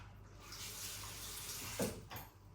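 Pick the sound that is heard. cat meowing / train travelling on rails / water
water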